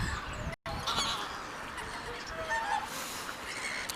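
Geese honk at a nearly frozen city pond in Reykjavik in winter, with scattered calls over outdoor ambience and wind.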